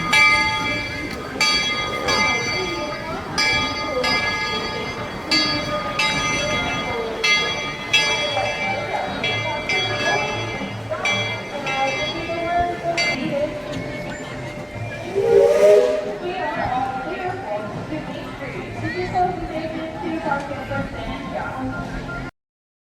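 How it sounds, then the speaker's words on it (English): A monorail train at Magic Kingdom approaches with a sharp steam-style whistle blast midway, amid crowd chatter, clanging bells and a steady hiss of background noise. "Here comes the choo-choo train."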